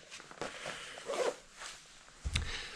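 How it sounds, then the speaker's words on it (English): A zipper on a jacket is pulled up in a few quick, close rasping strokes, quiet and alone with no talking. "Zip it right up to keep you nice and warm and dry."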